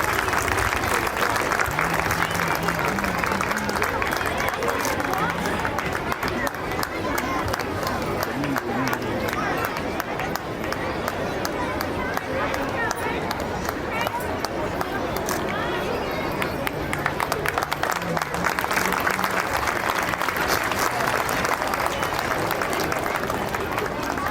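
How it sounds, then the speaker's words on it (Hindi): Parents applaud at a school prize distribution at Ramana Public School in Raipur as students come to the stage. Continuous, loud crowd clapping runs throughout, mixed with babble and a voice speaking over it. "प्लीज तालियां बजाइए"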